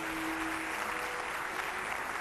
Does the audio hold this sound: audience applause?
yes